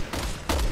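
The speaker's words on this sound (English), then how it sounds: "Keep shooting, Leon." Gunfire in Resident Evil 6 comes as two loud, close bursts of shots in quick succession with no talk.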